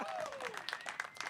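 Audience applause and clapping at a live podcast taping in a venue, a steady dense patter of hands for about a second with some cheering and voices mixed in.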